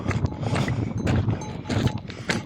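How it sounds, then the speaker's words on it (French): Bells ring from a large flock of sheep on a mountain trail, irregular clanks and clatter that rise and fall close by, with no voices. "Un gros troupeau de moutons."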